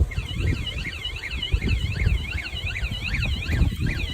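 A rapid warbling electronic alarm tone from a KCMYTONER anti-theft bike alarm set off by movement, repeating steadily throughout, fairly faint, over gusty wind rumble outdoors.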